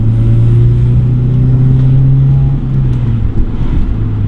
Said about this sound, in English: The exhaust sounds really good.